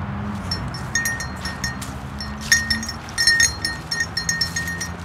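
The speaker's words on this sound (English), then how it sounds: "So that's saying he's a pretty doggone good goat." A goat given as a birthday present bleats in short repeated calls over a steady low background hum, fairly close and moderately loud, with no talking.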